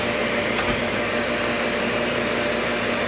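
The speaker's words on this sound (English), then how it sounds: "Turn on my shop vac." A shop vac runs steadily in a woodworking shop while a mortise is cut, a constant loud broadband whoosh with an even hum throughout, no talking.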